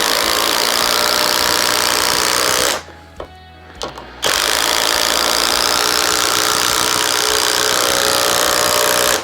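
A Bosch Freak impact driver hammers 3-inch T30 Spax screws, a loud continuous rattling clatter close up, with a brief pause between the two screws.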